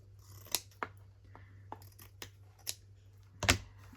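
Fabric scissors snip on a craft table in a few sharp, separate cuts, close and fairly quiet over a low steady hum, with one louder double snip near the end.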